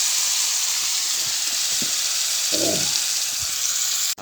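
Pork chili curry paste sizzles and fries steadily in a hot pan after water is added, giving a loud continuous hiss with a few soft stirring knocks, with no talking.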